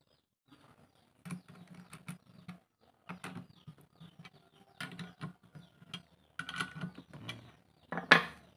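An oscillating adaptor tightened onto an angle grinder, giving close, faint metallic clicks and ratcheting taps in short irregular bursts with brief pauses, ending in a sharper click.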